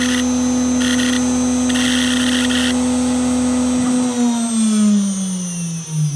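A Onefinity CNC machine lowers its router bit while probing, a steady motor whine with stepper tones that slide downward near the end as the axis moves, alone and fairly loud.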